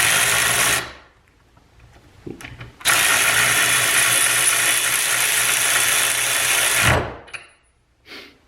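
A Harbor Freight Earthquake XT cordless ratchet runs loud and close in two bursts, a fast buzzing whir lasting about a second and then about four seconds, with short clicks in the pauses between them.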